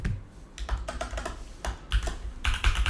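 Rapid, irregular keystrokes on a worn-out, poorly working computer keyboard, typed close up in steady bursts with brief pauses and no talking.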